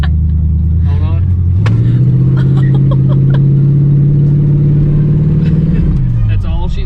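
A Chevrolet Vega drag car with weak rear brakes revs hard, its engine climbing and holding at a loud, steady roar while the rear tire spins, then dropping back, with people talking close by.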